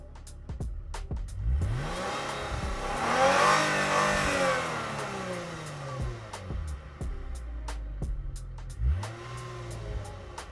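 Lexus RC 350 F Sport engine revving in sport mode, heard from inside the car: a steady engine note climbs to a louder, rising rev in the middle, then eases off, with small clicks scattered throughout.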